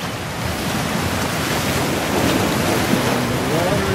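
Agitated ocean water at a small beach by a hotel on Hawaii Island, a steady broad wash of surf and wind rumble filling the whole stretch, loud and continuous, with faint voices buried beneath.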